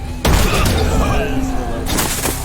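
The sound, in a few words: gunfire from video game Scarlet Shel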